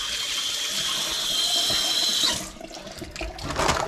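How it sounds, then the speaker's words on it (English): A garage utility sink faucet runs hot water steadily with a loud rushing hiss, then shuts off, leaving a few quiet clatters. "I just use my utility sink here in my garage"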